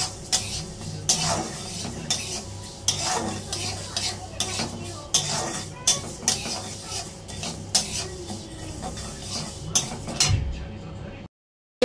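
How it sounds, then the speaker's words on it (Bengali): Moong dal dry-frying in a pan, stirred steadily with regular scraping and clinking strokes of a spoon against the metal over a light sizzle, close by, before the sound cuts off abruptly. "মুগ ডালটাকে ভালো করে আমি ভেজে নিচ্ছি"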